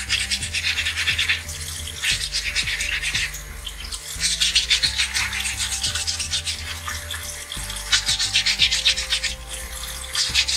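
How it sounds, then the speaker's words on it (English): Sandpaper, water-resistant type, rubbed over the surface of a dental stone model during occlusion model prep, a steady close scratchy rasping in repeated strokes that runs throughout without talk. "all you have to do is a little bit of sanding on the surface"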